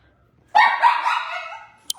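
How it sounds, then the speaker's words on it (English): Dogs bark indoors in one loud, close, yelping burst lasting over a second, with a short sharp sound just after and no talk over it. "It's like dogs, go outside."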